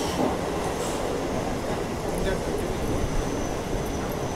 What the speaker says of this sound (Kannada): ಇದು ನಮ್ಮ ಈ ಮೆಮು ಟ್ರೈನ್ ಸದ್ಯಕ್ಕೆ ರೀಚ್ ಆಗಿದೆ ಮಾಲೂರು ರೈಲ್ವೆ ಸ್ಟೇಷನ್ಗೆ.